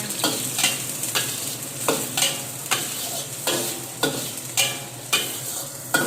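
Sausage fried rice stir-fried in a pan, with about a dozen rhythmic scrapes and tosses of a spatula over a continuous close sizzle, no voices.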